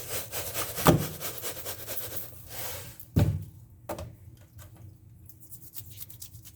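Hands scrub salt seasoning into a raw pork tenderloin, giving soft, close rubbing and scraping sounds, with a couple of sharper brief knocks and quieter friction in between.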